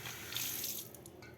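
Sweet potato shoots are rinsed under a running tap, giving a soft, continuous splash and trickle of water into a sink. No one talks.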